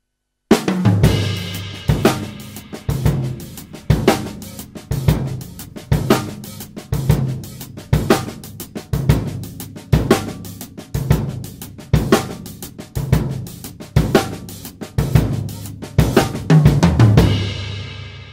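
Drum kit plays a steady Purdie shuffle with ghosted grace notes, the triplet feel rolling evenly with clear kick and snare accents, loud and close, with no talking.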